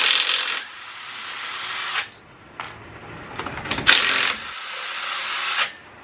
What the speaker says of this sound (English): this is an Audi rattle gun. Literally cheapest one you can get, full stop